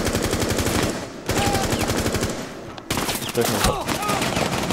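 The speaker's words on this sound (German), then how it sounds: "Ich schieße da Einzelschuss mit dem Ding." Rapid gunfire in Rainbow Six Siege, bursts of shots crackling loudly in tight succession with brief pauses between volleys, while someone speaks German briefly over the shooting.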